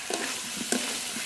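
Boiled taro gets stirred into masala frying in oil for a rohu fish curry, a quick scrape of a spoon through the pan over a steady close sizzle, with a couple of brief stirring strokes.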